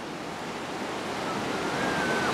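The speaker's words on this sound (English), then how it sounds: "That's the last of the main rapids that we've got to endure" Rapids on the Watauga River, heard from a rafting trip as a steady, loud broadband rush of churning white water with a faint high whistle near the end, with no talk.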